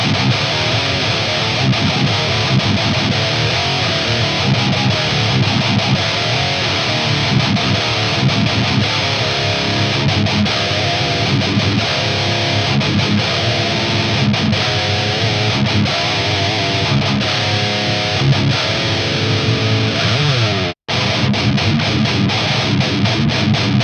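Distorted electric guitar played through a solid-state amp on a Criminal PV5150-style setting, a dense, saturated heavy tone chugging steadily and loudly with a brief cut near the end.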